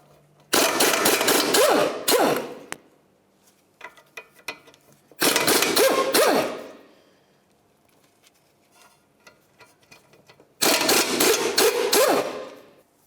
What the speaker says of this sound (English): Remove the bolt and then your nuts.